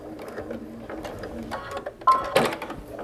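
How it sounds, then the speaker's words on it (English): A sewing machine stitching across the bottom edge of a binding on a Christmas pot holder, then doing a couple of back stitches: short uneven bursts of mechanical whirring and clicking, fairly close, with quiet pauses between runs. "you're going to stitch across the bottom edge. And then do a couple of back stitches."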